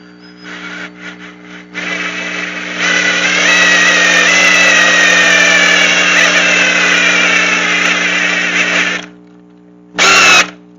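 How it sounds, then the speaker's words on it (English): A power drill drives a tap into a Borg Warner Super T-10 transmission part, a loud sustained motor whine that shifts in pitch for about six seconds, stops, then gives one short final burst. "You should never use a drill to drive a tap in, but I'm going to do it anyway."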